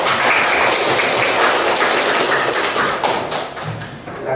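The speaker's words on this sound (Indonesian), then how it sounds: "Baik, tepuk tangan dulu." A classroom of people claps together in sustained applause during a teaching performance session, loud and dense, then gradually thins out toward the end.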